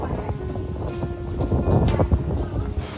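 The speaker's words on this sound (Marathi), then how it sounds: "एवढा वारा सुटला ना विचारू नका" Strong wind buffets the microphone in uneven gusts, rumbling loudly and rising and falling over a few seconds.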